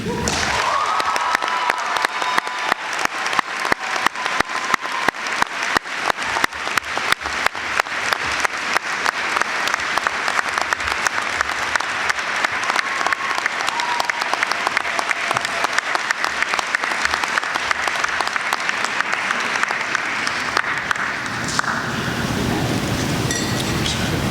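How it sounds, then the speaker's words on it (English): Audience applause at the Longwood Convocation 2024 for award winners: dense, steady clapping from a large crowd that fills the hall for over twenty seconds, then thins slightly near the end. "another round of applause for our award winners"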